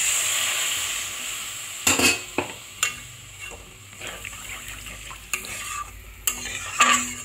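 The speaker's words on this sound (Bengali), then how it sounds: "বন্ধুরা তেল পুরো রিলিজ করে দিয়েছে মশলা থেকে। এবার আমি এর মধ্যে জল দিয়ে দেবো।" Egg curry masala with released oil sizzles steadily in a pan as water goes in, with several sharp scraping stirs and utensil knocks standing out over the frying hiss; no voices.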